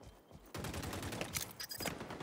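Gunfire in the first-person shooter XDefiant, a rapid burst of close, loud shots that starts abruptly and rattles on steadily to the end, with no talk over it.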